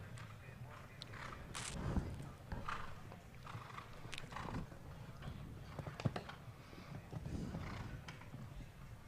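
Show-jumping horse cantering around an arena course in a 1.45m speed class, hoofbeats thudding in an irregular rhythm at a distance, with a whinny and faint crowd ambience.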